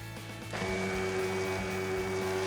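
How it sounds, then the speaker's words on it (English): An immersion blender whirs steadily through white chocolate mirror glaze, a close mechanical hum that steps up in intensity about half a second in and then holds loud and even. "the immersion blender gets everything in there really nice and smooth"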